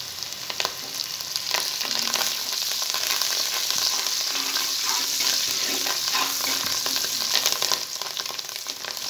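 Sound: fresh coriander and mint frying in biryani pot

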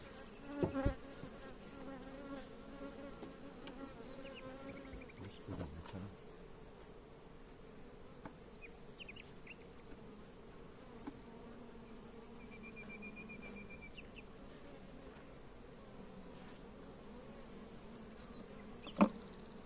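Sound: honey bees buzzing during a beehive transfer

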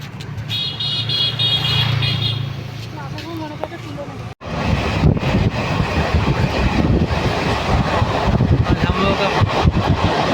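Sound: train running

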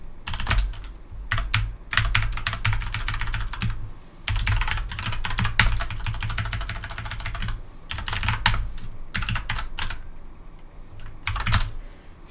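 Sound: typing on a computer keyboard

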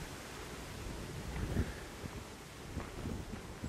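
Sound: wind blowing

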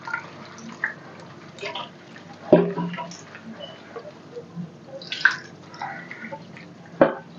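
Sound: washing papdi beans and potato pieces in water

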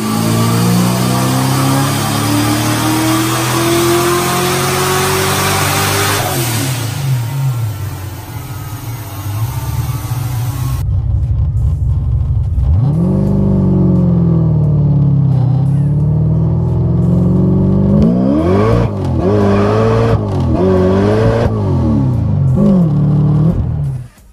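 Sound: supercharged Mustang engine revving

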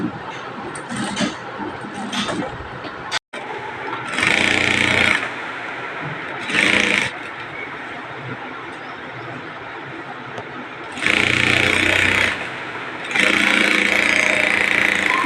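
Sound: sewing machine stitching a saree petticoat

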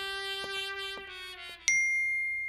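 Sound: phone message notification tone

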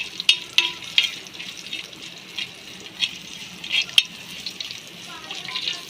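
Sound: hot tempering (phodni) sizzling in pan for amsul dal

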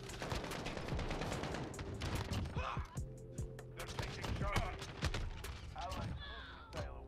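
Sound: gunfire in the video game Modern Warfare

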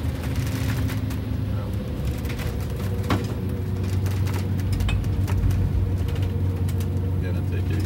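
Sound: Wanderlodge RV bus with 8V92TA engine accelerating uphill

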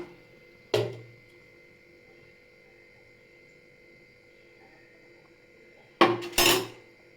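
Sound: stirring moong dal into okra pachadi in a pot

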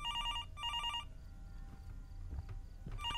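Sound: telephone ringing in a video game

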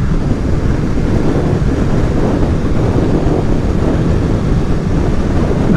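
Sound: wind noise riding a Kawasaki Z650RS motorcycle near 60 mph

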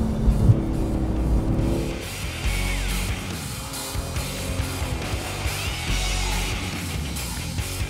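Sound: 2018 Porsche 911 GT2 RS driving at speed

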